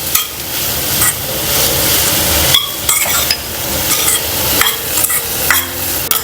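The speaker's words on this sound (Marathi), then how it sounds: "आता कांदा आपण परतून घेऊया, मऊ होईपर्यंत आपल्याला शिजवून घ्यायचा आहे" Chopped onion frying with salt in a pan, a steady close sizzle broken by repeated stirring scrapes and light clinks of a utensil against the metal.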